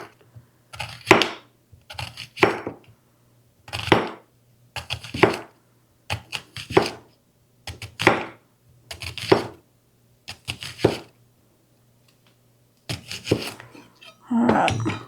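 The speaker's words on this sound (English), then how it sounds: "Now then I'm just going to slice this thin" A knife slicing an onion thin on a cutting board for mushroom slider burgers, producing a series of about a dozen crisp, separate cuts in an uneven rhythm, close and clear against a quiet background.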